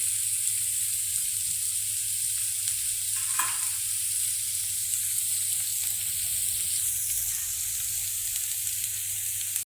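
Soaked poha being stirred and fried in a pan, giving a loud, continuous sizzle with a brief scrape of stirring partway through and no talking.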